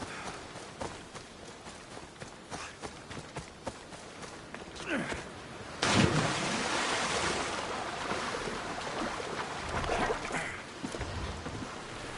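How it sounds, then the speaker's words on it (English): Ocean surf washing around a boat at sea in Assassin's Creed Odyssey, a steady rushing swell with a louder crash of water midway that keeps surging afterward, no talk heard. "I don't think this boat can take those waves."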